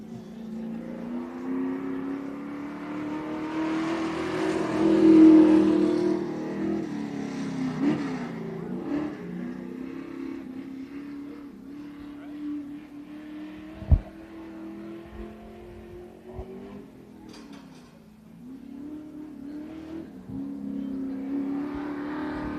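Street stock race cars practicing on a dirt speedway, engines droning and revving as they circle, swelling as cars pass near and fading again, with a sharp knock partway through and distant announcer talk.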